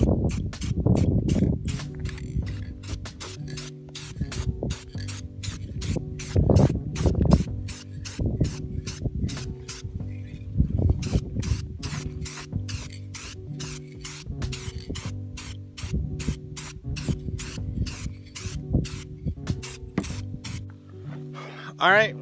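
Aerosol clear coat sprayed over Plasti Dip on a 2013 Dodge Dart R/T, heard as repeated short hissing bursts in a steady rhythm over low background hum, close and fairly loud, with no talking.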